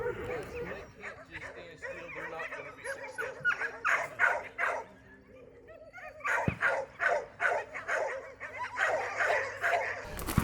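A dog barks and yips in short repeated bursts during a heel drill, fairly faint and distant, with occasional whimpers and a person's voice talking over parts of it.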